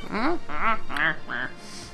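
A crow enemy in the video game Fire Emblem: Path of Radiance gives four harsh, nasal, squawking cries in quick succession, loud and alone.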